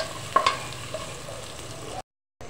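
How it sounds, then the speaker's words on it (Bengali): Chopped onion frying in hot oil, a steady soft sizzle with a couple of stirring clinks near the start, cut by a brief gap of silence near the end. "তেলটা গরম হয়ে গেলে এর মধ্যে কেটে রাখা পেঁয়াজ কুচি দিয়ে দিলাম। পেঁয়াজ কুচিটাকে একটু ভেজে নিব আমরা।"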